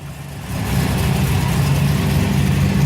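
A car engine starts after a clutch replacement and settles into a loud, steady running drone close by, with no speech over it.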